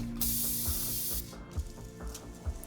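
Koch-Chemie Green Star all-purpose cleaner is sprayed onto the engine bay of a VW Caddy van in a loud, close, steady hiss lasting about a second, followed by softer rubbing and a few small knocks.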